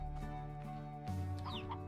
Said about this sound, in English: I'll put more chickens in here.